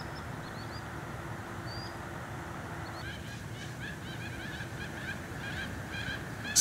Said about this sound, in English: Male mandarin ducks are hanging out in a flock.